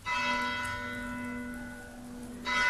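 Church bells in La Garriga ring out steadily with a rich, sustained metallic tone, fading slightly midway before a fresh loud strike near the end.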